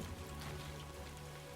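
Steady, dense rainfall patters continuously on surfaces in the Death Stranding 2 video game, an even, unbroken wash of drops heard close without any voices.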